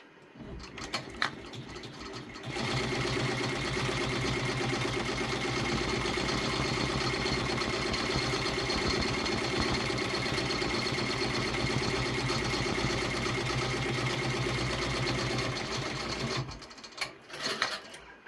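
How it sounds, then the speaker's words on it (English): A Redline 1501 embroidery machine stitches a bow placement outline on a child's shirt, running as a loud, steady mechanical whir for about fourteen seconds after a few brief clicks, then stopping with small handling noises. "So I'll go ahead and stitch the placement stitch for the bow."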